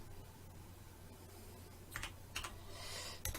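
A few quick keystrokes click on a computer keyboard, sparse and fairly faint over a quiet hum, in small clusters toward the end.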